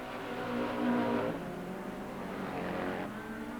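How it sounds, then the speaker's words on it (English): The engine of a small Vauxhall rally car screams past a commentary point at a stage rally, a sustained loud high-revving roar that swells and then recedes. "Gareth Thomas screams that little Vauxhall engine past the commentary point"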